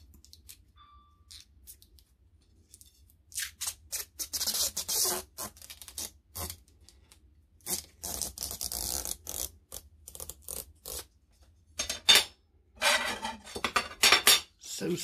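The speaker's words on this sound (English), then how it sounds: "So satisfying to unwrap a brand new product." Tamiya 1/14 MAN TGX model truck kit chassis parts being unwrapped from their protective coating, close crinkling and scratchy rustles in irregular bursts separated by quiet gaps, growing busier toward the end.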